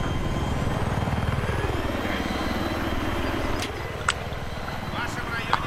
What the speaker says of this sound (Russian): В вашем районе замечен вражеский вертолёт.